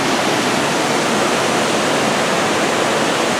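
A waterfall in Umpqua National Forest roars as a loud, steady, broadband rush of falling water, continuous and close throughout with no voices over it.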